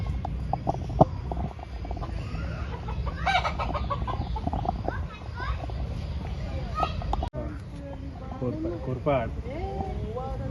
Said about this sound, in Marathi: हे हा कोंबडा आहे. कोंबडा आहे मोठा.